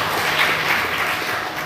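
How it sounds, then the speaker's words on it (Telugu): Audience clapping together at a village Lenten prayer gathering, a steady dense patter of many hands sustained throughout, fairly close and even in loudness. "చప్పట్లు కొట్టండి అందరూ"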